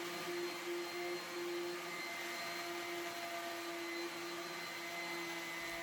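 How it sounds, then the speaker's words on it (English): An orbital sander runs over a wooden beehive box, giving off a steady whirring drone that holds even and unbroken throughout, fairly faint, with no voices. "then I just quickly hit the rest of the box with the orbital sander and get it ready for paint."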